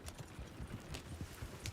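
Horse hooves clip-clop steadily on the ground in Red Dead Redemption 2, a quick irregular run of low thuds with occasional brighter clicks, fairly close, with no voices.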